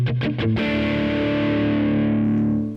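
Distorted electric guitar through a single-coil pickup: a few quick chugged hits, then one chord left ringing, loud and thin, sustaining with heavy grit until it slowly fades.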